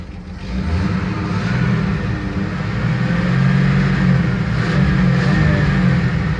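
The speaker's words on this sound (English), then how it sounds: "Let me give this thing a little gas." A dirty 1971 Chevy C10 pickup with a weak battery runs in an old garage, its engine held at a raised, steady rev with a slight swell midway, loud and close with no talking.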